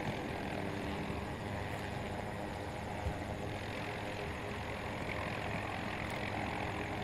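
A Little Bird helicopter flies in Battlefield 2042, its rotor and engine giving a constant loud, dense drone that holds steady and close without pause.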